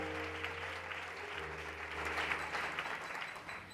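A congregation at a prayer vigil claps continuously, a soft, dense wash of applause over low sustained music tones.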